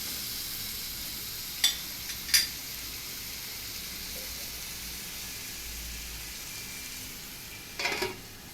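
Tomatoes fry for chicken karahi in a constant, even sizzle, with a few brief scrapes and clinks of a utensil against the pan.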